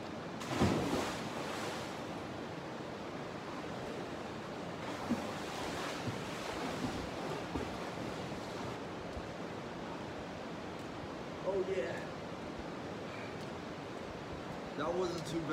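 Ocean waves and surf wash steadily around a person taking a cold morning plunge into the sea, a broad continuous rush with a few brief louder splashes and bursts of wind noise on the microphone.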